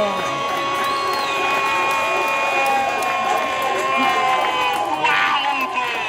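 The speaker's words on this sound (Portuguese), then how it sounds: "Olha ele aplaudido pela torcida." A football stadium crowd at a Brazilian Série D match between Altos-PI and Cametá-PA cheers and applauds a goal in a sustained, loud roar of voices, with an excited commentator talking over it.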